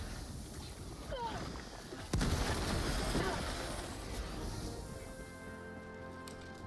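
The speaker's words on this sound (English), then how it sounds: "Throwing grenade." A grenade blast in Helldivers 2 hits as a sudden loud boom midway, followed by a rumbling, crackling tail amid ongoing game ambience, with a voice talking over it.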